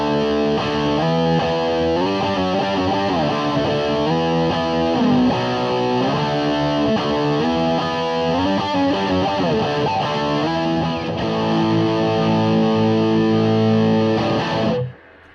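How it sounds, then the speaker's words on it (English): An electric guitar is played through the hot side of a King of Drive overdrive pedal into an Orange amp. It gives loud, heavily distorted chords and riffs, then one final sustained chord that cuts off abruptly. "Now let's give it the King of Drive,"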